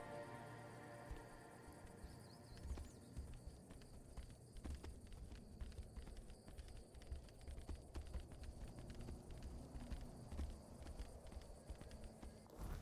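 Rhythmic clip-clop of horse hooves at a walking pace in the video game Tainted Grail: Fall of Avalon, steady and close, over a faint bed of insect chirping.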